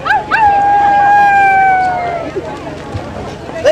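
A person lets out a long, high, wavering howl that glides slowly downward, imitating a wolf, with crowd noise around it.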